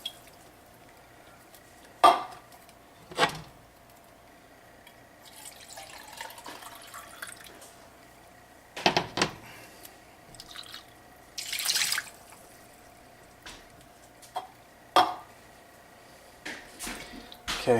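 Water poured into an emptied soup can and stirred to loosen the leftover soup while cooking, heard as a few sharp metallic clinks and splashes spaced out by quiet pauses.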